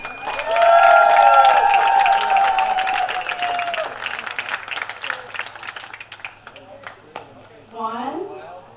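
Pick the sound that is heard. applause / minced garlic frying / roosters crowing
applause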